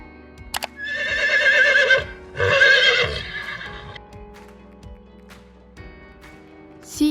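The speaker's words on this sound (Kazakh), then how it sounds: "Жылқы" A horse whinnies twice in quick succession, two loud, shrill, quavering neighs close by, followed by softer snorting and faint hoof sounds in a children's animal-sounds cartoon.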